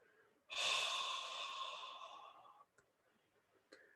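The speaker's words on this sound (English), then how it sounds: "Deep breath in again. Hold it. And then steadily let the breath out." One slow, deep breath out during a relaxation meditation, a long, loud, steady exhale close to the microphone that fades away, followed by a few faint soft breaths.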